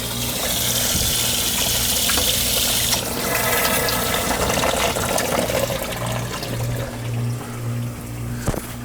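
Water rushes steadily through oil heating system pipes as they are purged, a continuous loud hissing flow with a low steady hum underneath throughout.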